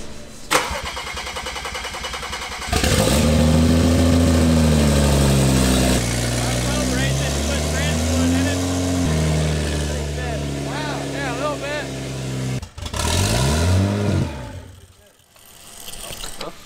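A rebuilt BMW 335i with an N55 engine fires up for the first time with no exhaust fitted, cranking briefly, then roaring loud and rough through several revs before a sharp cut. Voices talk over it throughout.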